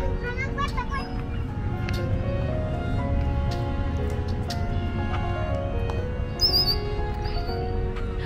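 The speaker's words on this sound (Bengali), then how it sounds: "এই পাখিটাকে বলে ব্ল্যাক বার্ড রেড উইংস," A red-winged blackbird calls along the Fox River, its brief bright trills sounding among other birds over a steady low background, with children and other people talking nearby.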